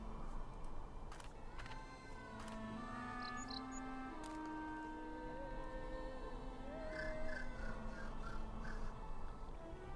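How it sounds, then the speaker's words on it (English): A blackbird call from the video game Syberia II: several short whistled, gliding chirps and clicks over a steady low background hum, fairly faint, with no talking. "How about a blackbird call?"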